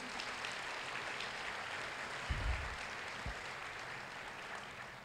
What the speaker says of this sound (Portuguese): Você pode aplaudir o Senhor Jesus?